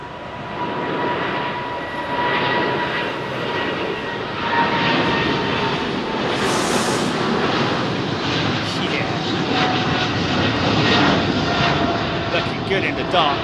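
A Virgin Atlantic jet departs Heathrow, a loud, continuous engine roar with a high whine building through the run, heard close with wind buffeting and a voice talking over it.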